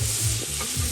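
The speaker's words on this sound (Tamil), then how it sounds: "அந்த மாதிரி பொன்னிறமாக வதங்கிக் கொண்டிருக்கின்றது" Tomatoes and chillies sizzle and fry in a pan while being stirred for a village-style dum biryani, a close, continuous crackle with short scraping strokes.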